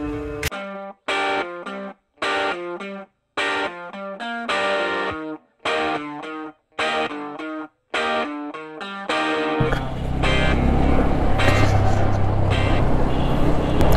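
A Bajaj Pulsar N160 motorcycle rides through jammed city traffic; rhythmic, chopped electronic music plays for most of the stretch, then gives way to a steady, close rumble of engine and street noise for the last few seconds.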